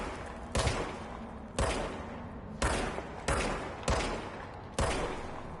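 Gunshots in the video game Control on PS5, six heavy, booming single shots spaced about a second apart, each loud with a short decaying tail and nothing else around them.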